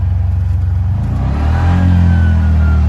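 Engine of a Bajaj RE auto-rickshaw revving as the clutch is released, a loud close drone that steps up in pitch and swells midway, then holds a strong steady whine.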